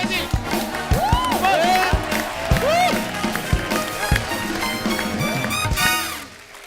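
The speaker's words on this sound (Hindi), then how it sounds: "एक बार जोरदार तालियां हो जाए" A studio audience at a comedy talk show applauds and cheers loudly in a dense, sustained wash of clapping, with music and voices mixed in.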